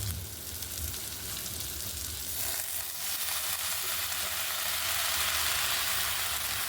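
Chopped telakucha greens with jackfruit seeds, salt and turmeric fry in a pan, giving a continuous hissing sizzle that rises slightly after a shift midway, close and steady with no talking.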